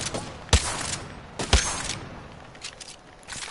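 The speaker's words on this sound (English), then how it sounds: "He's shooting at me." Gunfire in Apex Legends: two sharp, close shots about a second apart over a steady game background, then fainter distant shots trailing off.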